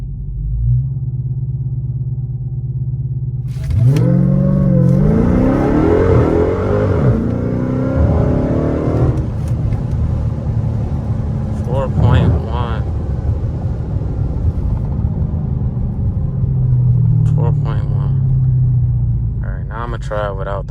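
A Dodge Charger Hellcat Redeye launching in a 0-60 test, engine idling low, then a loud surging roar as it accelerates through gear changes, heard from inside the car with someone talking over parts of the run.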